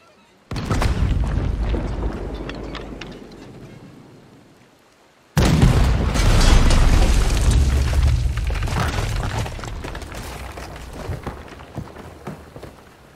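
Heavy cannon fire and explosions rumble in a Red Dead Redemption 2 ship battle. Two long, loud booming waves roll on, the second stronger and more sustained than the first.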